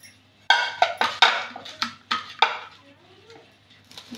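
A metal pan for Telangana sarva pindi is handled while oil goes in: several sharp clanks and scrapes of metal cookware ring out one after another, close and fairly loud, then settle into quiet.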